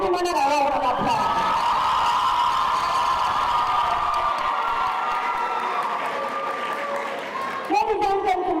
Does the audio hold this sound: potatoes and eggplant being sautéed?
no